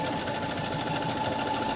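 A sewing machine runs steadily while stitching soft minky fabric at a half-inch seam, a continuous close whirring hum with no pauses, loud and unbroken for under two seconds.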